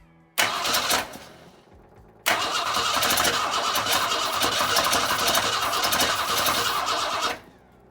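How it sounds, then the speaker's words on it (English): A 1962 Ford Falcon engine cranked with a washer fitted in place of the carburetor: a short burst of cranking, a pause, then a long loud run of cranking or sputtering that stops abruptly. "I want to see if I can get it to start and maybe run-ish with a washer instead of a carburetor."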